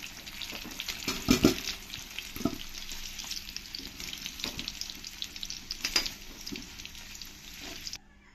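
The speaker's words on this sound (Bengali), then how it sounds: "আলুগুলো আমি লাল লাল করে ভালো করে ভেজে নেব" Steady crackling sizzle of potatoes frying in hot oil, with a few louder pops and clinks early on, continuing without speech.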